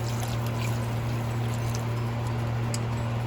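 Water poured from a cup into a pan of simmering pork chop gravy with onions, a steady continuous trickle and splash close by over a low constant hum, no talking.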